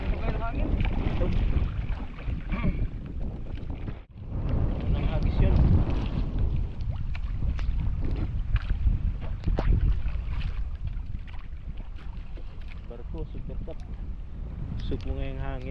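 Strong wind buffets the microphone aboard a boat, a loud continuous roar with gusts, while people talk over it.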